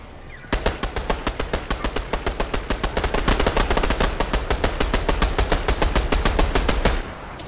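Rapid automatic gunfire from the video game Fortnite rattles in a long steady burst of evenly spaced shots, loud and close, lasting several seconds.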